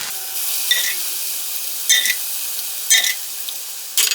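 Mushroom sauce hits cold rice in a hot pan, a steady soft sizzle broken by a few sharper crackling bursts at intervals, close and fairly loud with no one talking.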